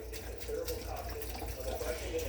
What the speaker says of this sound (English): I'm going to put a container of chicken broth in the crock pot with the beans.